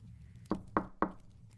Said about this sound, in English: the old woman knocked on the door